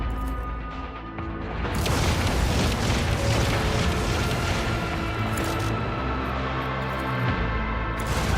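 Artillery barrage explosions in the video game Warhammer 40000 Rogue Trader: a heavy, continuous roar of overlapping booms and blasts, loud and close, swelling after the first second and rumbling on without a break.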